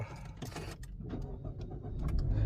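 A Mazda2 Skyactiv with a smart-key remote is started by push button, the engine catching and settling into a steady idle close by, with faint clicks and rustles over the rising engine hum.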